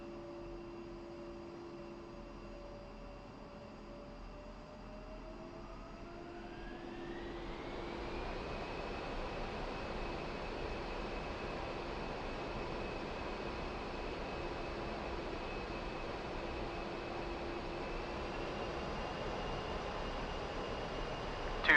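Twin jet engines of an A-10C in DCS World spooling up to full throttle for takeoff: a low steady whine rises smoothly in pitch, then holds as a loud continuous roar, with no voices.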